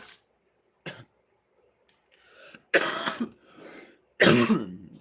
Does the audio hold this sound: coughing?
yes